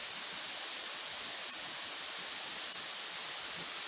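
A waterfall near Kiambu roars as a steady, broad hiss of falling water, constant and fairly distant, with no other sounds.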